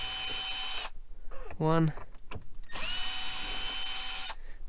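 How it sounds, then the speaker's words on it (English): A power driver unscrews T25 Torx screws from a Mercedes E-Class cabriolet seatbelt in two close whirring bursts, and someone speaks briefly between them. "There's two screws, two Torx screws at the back, so let's remove those. T25 Torx."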